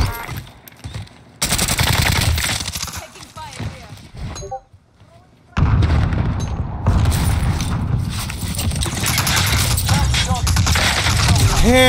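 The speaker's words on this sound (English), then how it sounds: "Enemy precision airstrike, take cover!" Explosions and bursts of gunfire during a Call of Duty Warzone match as an enemy precision airstrike lands, loud booms and rapid shots with a brief lull midway, talk in between.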